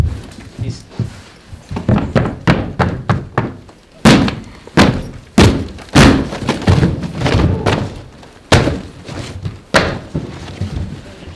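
During exit training, a firefighter sounds a wall by striking it, producing a close, loud, uneven series of heavy thuds and knocks, some coming in quick bursts and others spaced apart.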